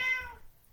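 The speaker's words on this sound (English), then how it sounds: "excuse my cat" A single short cat meow, clear and close, fading quickly into quiet.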